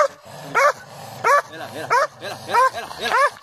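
A hunting dog barks repeatedly during a wild boar hunt in Fthiotida, sharp loud yaps in an uneven rhythm with whiny yips between them, close up.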